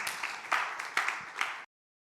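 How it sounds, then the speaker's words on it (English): Brief round of applause from an audience at a startup talk on search engine marketing, a burst of clapping lasting under two seconds that cuts off abruptly. "Round of applause for Andrew, please."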